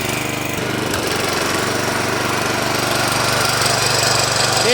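A Toro Flex 21 reel lawn mower runs steadily up close, a loud continuous engine drone with a rattling, buzzing texture that holds even throughout.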